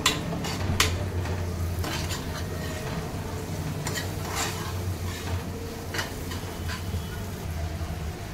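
Homemade Malvani masala stir-fried in a pan for Konkan-style vaal bhaji, with a low sizzle under repeated scraping and clinking of a spoon against the pan, close and without talk.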